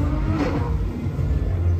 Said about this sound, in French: Une F12 avec un échappement libre qui vient de passer sur le pont là